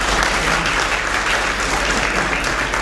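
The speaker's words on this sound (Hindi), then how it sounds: "बार बार ताली नहीं बजाओ" Audience applause fills a hall during a spiritual discourse in Delhi, dense and steady clapping from a large crowd throughout, loud and continuous without a break.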